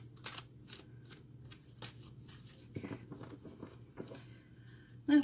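A deck of tarot cards being shuffled close up, giving soft riffling and papery flicks in irregular bursts over a quiet room, ending with a louder tap.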